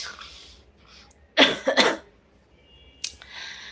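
A close burst of harsh coughs, two or three in quick succession, then one more cough a moment later, with quiet between.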